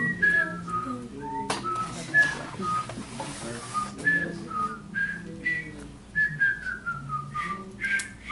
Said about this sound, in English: we will simply whistle the theme to Jeopardy